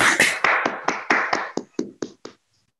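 Applause from an online audience over open microphones comes as about ten sharp, separate bursts of clapping, close and uneven. It fades out after a couple of seconds, and no one talks.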